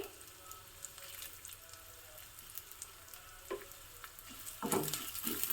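Chana dal and coriander seeds roasting in a pan give a faint, steady sizzle with soft scraping and stirring clicks, growing a little louder near the end, with no voices.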